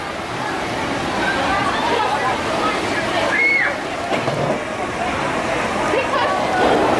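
Water rushes and sloshes steadily at a log flume ride at Six Flags St. Louis, a loud continuous wash of splashing with people talking over it.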